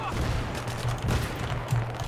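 Dense bursts of gunfire in the video game Battlefield 3, overlapping shots crackling in a continuous barrage at mid distance.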